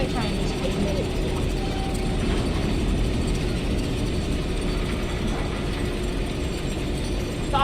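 A sawzall tool in the Dead Space video game gives a loud, steady mechanical whirring grind with a ratcheting edge that runs unbroken for the whole stretch.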